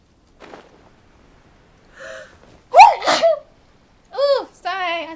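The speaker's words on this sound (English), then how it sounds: "Oh, sorry, I sneezed." A streamer sneezes once sharply after a soft breath and short vocal sounds, followed by more brief voiced noises in a quiet room.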